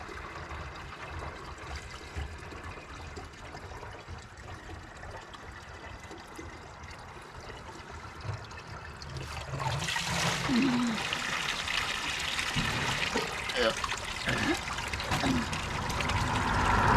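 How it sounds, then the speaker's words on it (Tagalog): Water gushes strongly from a natural spring as a container is filled, a steady rushing flow that grows louder partway through and continues alone without talk. "bulwak ng tubig talaga."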